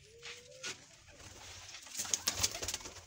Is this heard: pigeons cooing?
yes